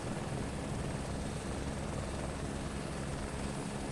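A video game helicopter's engine drones steadily and loudly throughout, with a dense broadband rotor and turbine roar and no talk over it.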